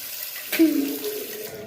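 Running tap water splashes steadily into a sink while a face is being washed with soap, a close, continuous rush that starts abruptly partway in and carries on to the end.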